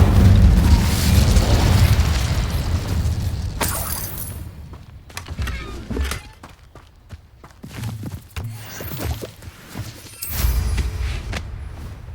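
Incendio fire spell cast in a Harry Potter video game, a loud whooshing burst and boom at the start that fades into crackling and scattered softer impacts.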